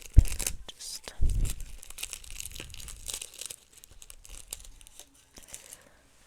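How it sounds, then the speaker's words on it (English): Tape tearing and crinkling in an ASMR dentist role-play, with sharp rips near the start and around one second, then softer crinkles fading out. "So, we just going with some tape."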